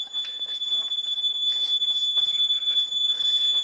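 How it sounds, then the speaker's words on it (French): A fire alarm control panel sounds its fault buzzer, a steady high-pitched electronic tone held continuously at moderate level, heard alone indoors. "Le buzzer qui nous avertit qu'il y a un dérangement."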